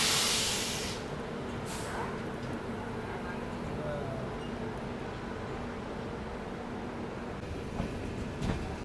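The Secunderabad Duronto Express runs on with a broad, steady rumble and hiss heard from inside the coach, a brief louder rush at the start and a couple of faint knocks near the end.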